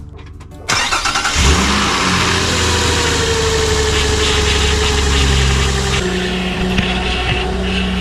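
Car engine cranking and catching in a garage in Edmonton, Alberta, a short starter whir followed by a loud steady idle that settles into an even rumble.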